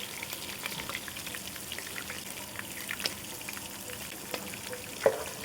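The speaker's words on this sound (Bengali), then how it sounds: "ভাজা ভাজা হয়ে গেছে, আমি এখন ডিম দিয়ে দিব।" Chicken liver, chicken meat and onions fry before an egg is added, making a soft, steady sizzle with scattered light pops and spoon clicks, the loudest clack coming near the end.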